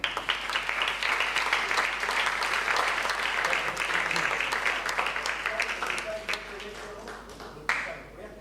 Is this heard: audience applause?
yes